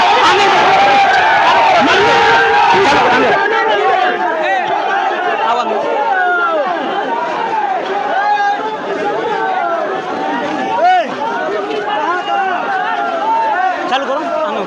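A dense crowd of student protesters fills the air with loud, continuous overlapping shouting and chatter. Many voices mix together nearby, and a brief burst of harsher noise comes at the start.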